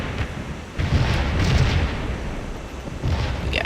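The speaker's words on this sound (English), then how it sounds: "We got good artillery bombardment." Artillery bombardment in the Napoleonic-era wargame Scourge of War, heard as a continuous roar of distant booming cannon fire with overlapping blasts that swell around the middle and again near the end.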